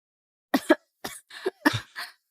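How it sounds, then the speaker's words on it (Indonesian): A series of harsh, close coughs in short bursts, roughly five or six hacks with brief pauses between them. "batuk darah"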